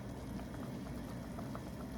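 A pot of chicken and dumplings at a low, steady boil on the stove, giving a faint, continuous bubbling simmer with no voices.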